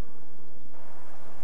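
A steady, low insect buzz hums continuously, like bees droning nearby, with a faint airy background.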